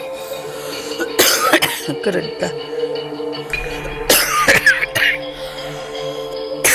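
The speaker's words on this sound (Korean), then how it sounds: "인터뷰가 여러 번 중단될 정도로 기침이 심합니다." Person with a serious lung disease coughs in several loud, harsh bursts, close by, with short pauses between them and brief talking mixed in.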